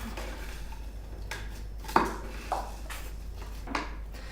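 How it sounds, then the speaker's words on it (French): Blueberries and sugar are stirred in a bowl, with a few soft scrapes and sharp light clinks of a utensil against the dish, close and quiet with no talking. "Et on mélange."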